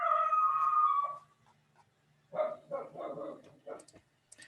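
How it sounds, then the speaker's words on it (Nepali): A dog kept outside a house barks several times in a short uneven series, moderately close, after a brief pause in a quiet room. "के कुकुर"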